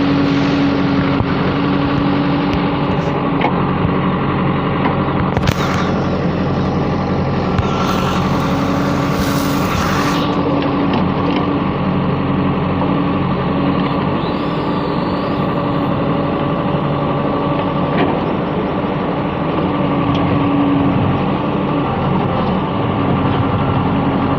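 A tractor engine runs in a loud, steady drone that continues without a break from start to end, with a few brief rattles on top.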